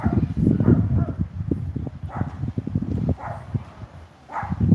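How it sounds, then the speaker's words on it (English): A small dog yips and barks in rapid, uneven bursts close by outdoors on a park path, with rustling and a voice mixed in. "It's a little dog."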